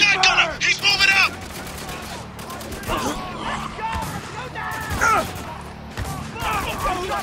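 Gunfire and shotgun blasts crackle through a firefight in the video game Spec Ops: The Line, with dense bursts of shots and shouted voices over the top.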